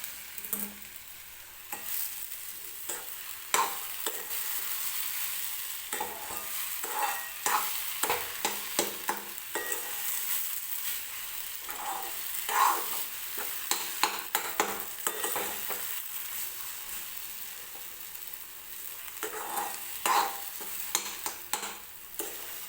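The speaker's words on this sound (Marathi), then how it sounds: "तर साखर टाकल्यानंतर व्यवस्थित मिक्स करून घ्यायचं आहे आपल्याला." Sugar being stirred into sheera, a sweet semolina dish, in a pan at home: a steady faint sizzle runs under repeated scraping strokes of a spoon against the pan, spread unevenly across the whole stretch with no talking.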